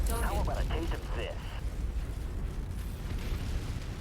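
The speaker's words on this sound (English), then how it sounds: "Get an ammo explosion." In MechWarrior 5 combat, an enemy mech's ammunition cooks off in a loud rumbling blast, with game radio chatter over the start and a long roaring decay.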